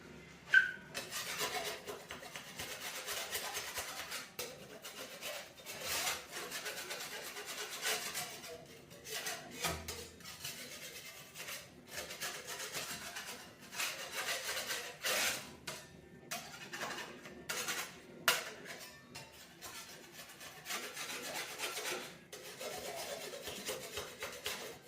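Paint is scraped off a brick wall in irregular bursts of gritty rasping strokes, close and moderately loud, separated by short pauses.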